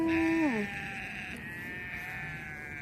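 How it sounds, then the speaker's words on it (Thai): A cow in a grassy field at sunset gives one short, falling call right at the start, then a steady high animal or insect drone continues through the rest of the scene. "น้องวัวน้องวัวน้องวัวมาต้อนรับอีกแล้ว"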